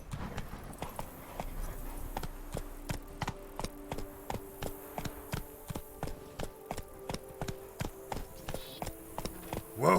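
Geralt's horse Roach walks in The Witcher, its hooves clip-clopping in a steady, even rhythm at close range with no talk over it.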